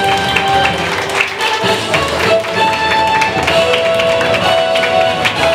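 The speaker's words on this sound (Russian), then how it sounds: "Друзья, бурные аплодисменты!" Audience applause at a children's festival award ceremony, dense steady clapping from a crowd that carries through the whole stretch without a break, loud and close.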